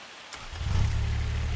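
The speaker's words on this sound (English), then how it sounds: "Now we got rain." Rain falling in Farming Simulator 25, starting as a faint hiss and swelling after about half a second into a steady, loud low rumbling wash that continues without pause.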